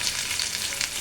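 Chopped onion fries in hot oil with a brief, steady sizzling hiss close by.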